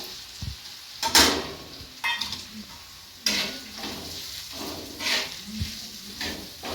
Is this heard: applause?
no